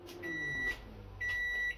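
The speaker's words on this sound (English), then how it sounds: "this is going to go back in microwave for another 7 minutes" Microwave oven heating a frozen shepherd's pie: two sustained electronic beeps over the appliance's low running hum, fairly close and with no talk.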